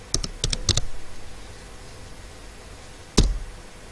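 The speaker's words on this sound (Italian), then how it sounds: "nel terminale dobbiamo digitare Alsa Mixer" Typing a terminal command on a computer keyboard on Ubuntu, a quick burst of crisp key clicks, a pause, then one firm keypress like Enter, close and clear.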